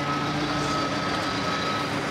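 A large vehicle idles close by with a steady engine rumble and a continuous high tone, like a truck or bus pulling up.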